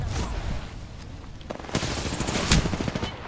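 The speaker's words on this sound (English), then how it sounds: "They're shooting me." Rapid automatic gunfire in the video game Apex Legends, bursts of close, loud shots with a brief lull before heavier firing resumes near the end.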